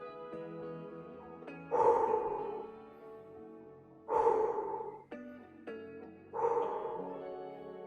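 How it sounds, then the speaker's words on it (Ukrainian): Slow breaths taken during a breathing exercise come in three long, evenly spaced, airy exhalations, close and fairly soft, with quiet gaps between them. "Я для цього виконую дихальну вправу верхівка пальця."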